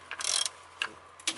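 A socket ratchet loosens bolts on a Toyota VVT-i engine, giving a close, quiet burst of rapid clicking followed by two short ratcheting strokes.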